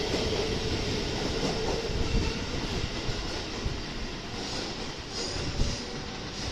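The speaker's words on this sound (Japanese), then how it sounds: "これも223系電車で、4両編成同士の、連結になっております" A 223 series electric train of two coupled four-car sets rumbles and hums steadily as it departs Kyoto Station, with wheel clatter and faint squeals beneath a rising motor whine, fairly close.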